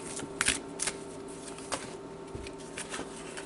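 Soft, irregular riffling and slapping of large tarot cards being shuffled, with a few sharper flicks, fairly quiet and close.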